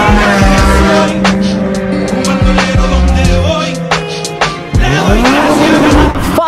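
Several cars leave a car meet in quick succession, engines roaring and revving hard with squealing tires and skids, loud and close, one car after another accelerating past.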